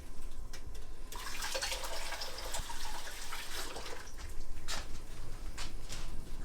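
A grapefruit is rinsed under a running kitchen tap, a continuous close splashing flow of water with small shifts in texture as the fruit moves in the stream.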